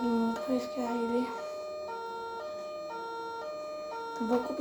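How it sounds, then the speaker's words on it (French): Emergency vehicle sirens in a video game wail in a steady two-tone pattern at moderate distance, with a voice speaking briefly over them at the start and end. "On va couper quand même les sirènes."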